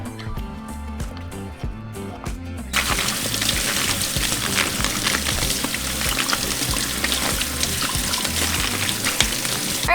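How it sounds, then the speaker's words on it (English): Tap water runs steadily over potatoes being rinsed, starting with a few clinks and light splashes before the full gushing stream takes over, close and continuous. "now I'm just going to rinse my potatoes"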